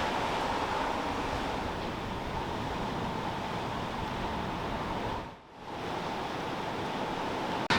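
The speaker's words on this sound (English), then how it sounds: "The waves come right up here, which the tide does." Sea surf surging onto a steep shelved beach below the cliffs of The Lizard, Cornwall: a steady, loud roar of breaking water that dips briefly near the end before swelling back, with no voices.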